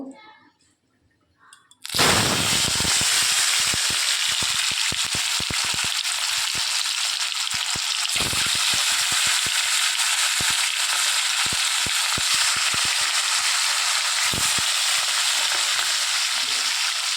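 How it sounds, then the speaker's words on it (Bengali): Pieces of katla fish drop into hot smoking oil in a kadai, four at a time. After a quiet start, a loud, dense sizzle bursts in and holds steady, dotted with sharp spattering pops. "মাছগুলো একে একে ভেজে নেব"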